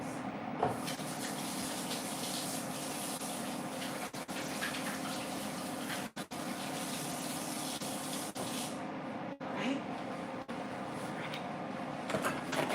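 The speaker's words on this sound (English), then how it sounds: "I'm going to wash my hands." Tap water runs into a kitchen sink as hands are washed during home cooking, a steady close hiss and splash lasting several seconds with brief interruptions.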